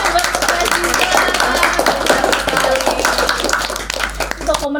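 An audience in a classroom session claps for a student named Putri Aziza, a dense burst of close hand clapping that carries on steadily for several seconds before tapering near the end.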